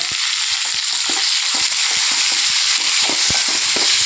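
Onions and tomatoes fry in a pan with a steady bright sizzle, broken by repeated sharp scraping clicks from a stirring spoon, loud and close.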